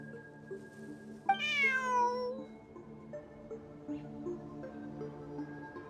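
A cat meows once, loud and rising then falling, over steady game music with sustained tones, in Genshin Impact; the background music continues after the meow fades.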